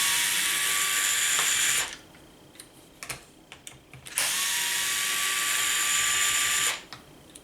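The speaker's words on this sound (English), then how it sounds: "Remove the 2 screws that go down in the bumper to the skid plate in the front." Power driver backing out the two screws that fasten the bumper to the front skid plate of a Traxxas Maxx RC truck, two loud whirring bursts separated by a pause full of small clicks and handling noises.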